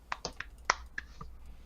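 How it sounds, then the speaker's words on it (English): A few sparse, soft claps at a tabletop game session, about six quiet separate claps scattered over under two seconds, near and thin, with no talking. "Golf clap for Magnus."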